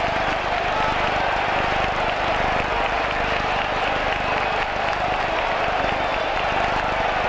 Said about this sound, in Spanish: El Cartago Nova registrando la ovación de gala de la tarde para este hombre, el hombre gol del Cartagena, Requena.